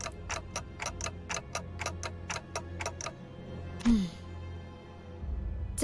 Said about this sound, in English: Ticking is all I hear.